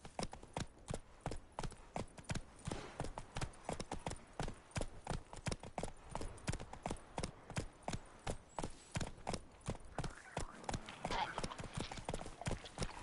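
Horse galloping in The Witcher 3 video game: rapid, steady hoofbeats close up and loud, drumming in a fast, even rhythm for the whole stretch, with brief voices speaking over it.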